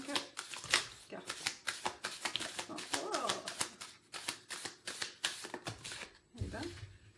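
Tarot cards being shuffled by hand, a quick run of crisp riffling clicks and flutters that continue steadily at close range, with a brief voice murmuring partway through.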